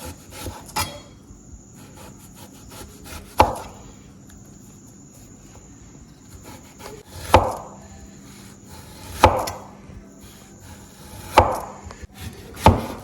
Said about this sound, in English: We'll start by cutting our plantains. So we are just slicing them really thin.